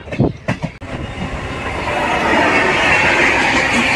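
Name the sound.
train running on the line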